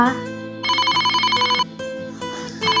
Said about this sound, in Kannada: ಫೋನ್ ರಿಂಗ್ ಆಗ್ತದೆ, ನೋಡಮ್ಮ.